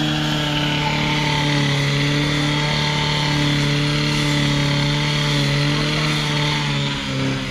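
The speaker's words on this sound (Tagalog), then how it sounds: "Ayan, dala ko yung grass cutter." A grass cutter runs steadily while land is cleared for a new construction project, a loud, close, sustained engine drone with a constant buzzing pitch that holds for the whole stretch.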